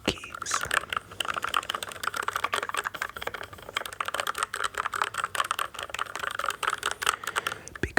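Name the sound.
fingers lightly tapping computer keyboard keys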